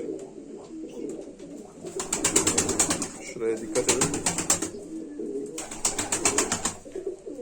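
Pigeons coo in soft, repeated throaty bursts close by, with bright rustling and fluttering in between and someone speaking briefly over them.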